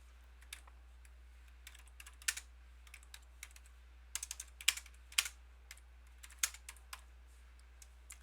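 A computer keyboard clicks in irregular bursts of quick keystrokes during a Minecraft co-op session, close and fairly quiet over a low steady hum.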